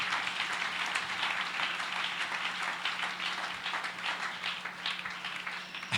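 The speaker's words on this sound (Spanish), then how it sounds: "Fuerte ese aplauso al Señor si desea hacerlo." A church congregation applauds during a Spanish-language sermon, a dense, steady patter of many hands clapping that fills the room at moderate level without a break.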